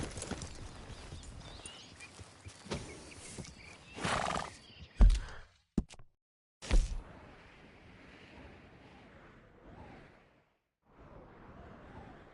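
Horse hooves clip-clop in the Red Dead Redemption 2 video game, an uneven run of hoofbeats with a few sharp louder hits and a whinny, then quieter trotting that fades in and out.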